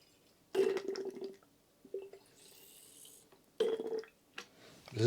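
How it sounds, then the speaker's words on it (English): Water dripping and splashing from a GPU water cooling loop being fitted to an NVIDIA RTX 3080, heard as a few short bursts of trickling liquid close by, separated by quieter pauses. "This is dripping."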